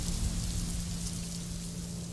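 A sudden violent rainstorm pours down hard and continuously, a dense roar of torrential rain with a low rumbling undertone and no break.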